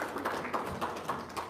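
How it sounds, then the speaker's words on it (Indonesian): Audience clapping hands, a run of quick, light, fairly faint claps in an irregular rhythm, fading in and out. "tepuk tangan dong"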